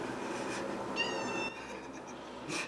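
A cat meows indoors, one short drawn-out call near the middle, fairly close but soft over steady room hiss, with a faint second sound near the end.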